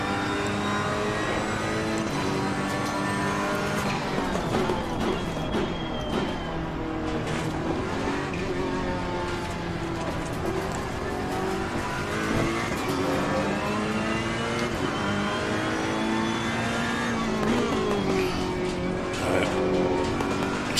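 A GT3 race car engine in a sim racing league race at Zandvoort, loud and continuous, revving up and down through gear changes and corners, with other cars audible nearby and no talking.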